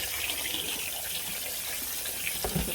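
Tap water gushes steadily into a sink to soak a batch of freshly picked apples, a continuous close splashing rush with a few brief clunks near the end.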